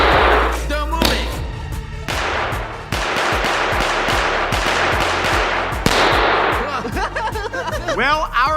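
Firecrackers burst in rapid, crackling pops and bangs as a powerful laser cannon built from twenty lasers hits them, loud sharp reports continuing for several seconds.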